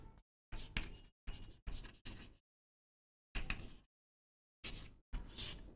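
Chalk or marker strokes on a board as a lecturer draws an analog signal graph: several short scratchy strokes in irregular bursts separated by silent pauses, close and fairly quiet.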